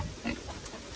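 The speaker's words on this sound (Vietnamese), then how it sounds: "Lợn nhà chị Máy cũng khá to" A large domestic pig, around 40–50 kg, grunts once or twice in a short burst in its pen, close and fairly quiet over a steady background hiss.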